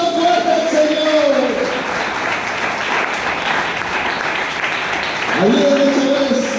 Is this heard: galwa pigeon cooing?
no